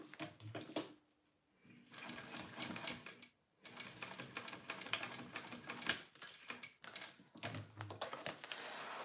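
A sewing machine stitching along a bag handle, quiet rapid mechanical chattering in several bursts with brief pauses between runs, close and steady, no speech.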